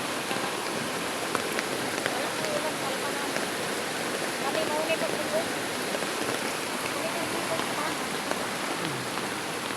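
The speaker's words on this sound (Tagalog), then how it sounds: "Pero hinay-hinay naman ang mga ulan" Heavy rain pouring over flood water, a steady broadband hiss and patter that holds evenly throughout, close and loud, with faint voices in the background.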